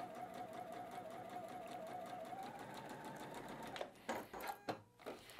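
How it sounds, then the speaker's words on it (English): A sewing machine runs a steady continuous stitch along a marked seam line on cotton batik quilt pieces, with a sustained whirring hum that stops toward the end, followed by a few brief handling clicks. "I'm actually looking at the needle through, or excuse me, the line through the hole in the foot there as I stitch right on this sewing line."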